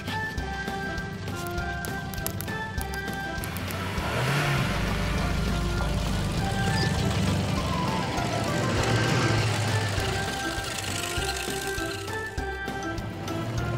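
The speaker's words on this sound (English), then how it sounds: "The excavator, crane truck, tow truck, and pickup truck are coming out of the garage." Engines rumble and rev at moderate volume as vehicles pull away, with a steady motor drone and occasional rising surges, no talking.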